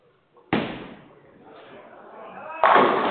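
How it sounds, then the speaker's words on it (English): A bowling ball crashes into the pins for a strike during a Stepladder final at a Russian tournament, with one sharp loud impact, a scattering clatter and a second heavy crash near the end. "He got the first strike"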